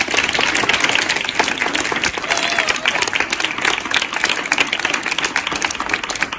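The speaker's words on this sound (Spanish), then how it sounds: "Un aplauso muy fuerte, muy fuerte." Loud, dense applause from an audience at a school flamenco event, steady clapping filling the whole stretch without pause.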